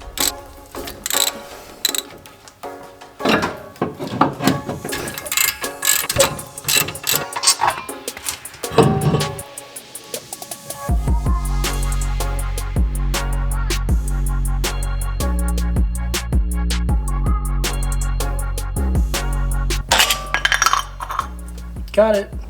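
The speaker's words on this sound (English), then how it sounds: "So now we gotta pull the caliper and the caliper bracket off and get the rotor out of here" A hand ratchet loosens the brake caliper and caliper bracket bolts on a car, with rapid close clicking bursts, metal clinks and a long steady ratcheting run in the second half, with no talking.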